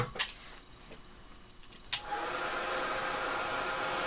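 A heat gun switches on after a couple of faint clicks and blows a steady, fairly quiet whirring hiss while drying distress ink on paper for a crafting project.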